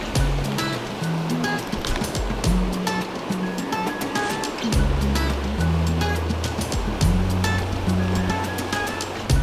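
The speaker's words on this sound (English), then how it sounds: "We have water coming down fairly fast over here" Fast water flowing over shallows and around a boulder in Connecticut's Salmon River in late winter, a steady, loud broadband rush filling the whole clip with no talking.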